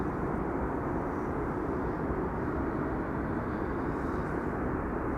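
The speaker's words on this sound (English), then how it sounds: "Swiss Embraer 190 now coming in" A Swiss Embraer 190 airliner comes in to land at Amsterdam Schiphol, giving off a steady, even jet rumble. The rumble holds at a constant level the whole time, with no talking.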